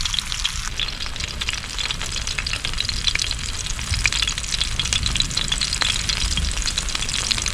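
Mackerel frying in oil on a tawa with curry leaves and masala, a continuous loud crackling sizzle with dense spitting pops, close and uninterrupted, no talk.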